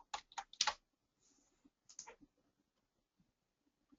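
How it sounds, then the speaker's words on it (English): Someone types a password on a computer keyboard in a quiet room: a quick burst of sharp key clicks, a short pause, then a few more taps and faint scattered ticks. "then I will type in my password"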